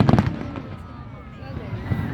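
Fireworks at a pyromusical competition at Mall of Asia seaside: a few sharp crackles and bangs at the start and end, heard mostly under nearby crowd chatter and talk.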